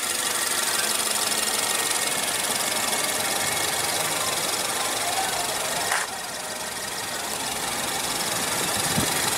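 A 2015 Ford Fusion's engine runs steadily after start-up, a constant idling hum with a faint mechanical rattle and a slight drop in level partway through.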